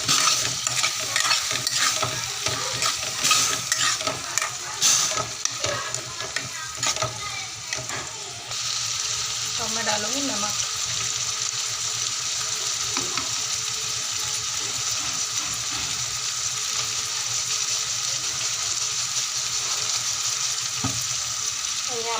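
Tomatoes fry in a hot pan under steady stirring, a continuous sizzle broken by scraping strokes that settle into an even hiss in the second half.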